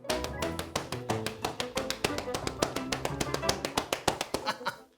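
Young children pat their legs to imitate rain during a preschool Bible lesson, producing a dense patter of quick, uneven taps that builds and then thins out.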